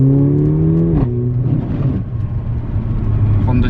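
A Mercedes A45 AMG in Sport Plus mode drones loudly from the cabin while driving, its engine tone dropping sharply at a gear change, then building again with a rough, throaty rumble.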